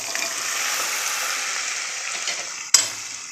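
Moong dal tipped into a hot pan sets off a steady, close hiss of frying that holds for about three seconds, broken near the end by a single sharp clatter.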